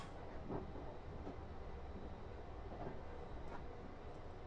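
A train on the Portsmouth Direct Line decelerates toward a station, heard as a faint, steady interior rumble of wheels and track with soft clicks, no voices.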